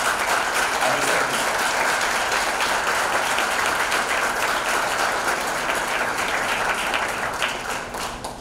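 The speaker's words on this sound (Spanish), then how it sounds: "Le damos un fuerte aplauso." Audience applause at a swearing-in ceremony for professionals in Costa Rica, sustained, even clapping from a sizable crowd that holds steady for several seconds before tapering off at the end.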